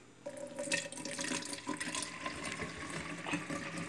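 Water running from a tap into a balloon being filled for a Jello balloon, a steady moderate gushing and trickling stream with faint rising tones, close and with no voices.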